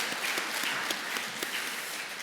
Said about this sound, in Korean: 우리 잠깐 일어나실 때 우리 박수로 환영하겠습니다.